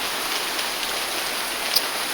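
Steady rain falling, a continuous even hiss of drops on surfaces with no voices, one small sharper drip standing out briefly near the end.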